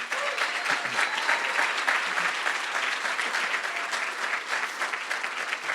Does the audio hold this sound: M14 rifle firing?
no